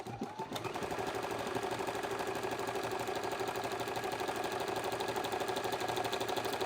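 A Juki DX7 sewing machine zigzag-stitches along the edge of a cloth napkin, a steady continuous mechanical hum with a fast regular needle rhythm that starts after a brief pause and runs unbroken, close and fairly quiet.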